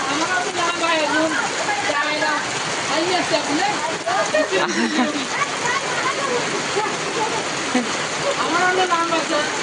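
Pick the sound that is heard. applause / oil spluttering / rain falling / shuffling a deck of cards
rain falling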